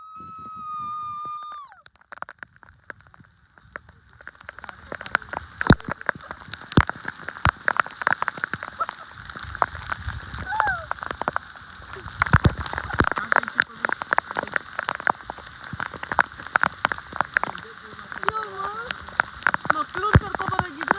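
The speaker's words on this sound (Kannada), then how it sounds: "ಎಷ್ಟು ಜೋರ್ ಮಳೆ ಬರ್ತಾ ಇದೆ." Heavy monsoon rain patters and splashes close by in a dense, uneven wash, while people talk over it at times.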